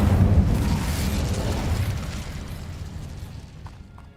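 Incendio fire spell cast in Hogwarts Legacy, a loud whooshing, roaring burst that starts strong and gradually fades over several seconds with a low rumbling body.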